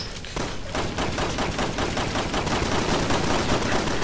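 Video game gunfire in a sustained, rapid automatic burst, loud and close, a steady stream of shots rattling on for several seconds with no talk over it.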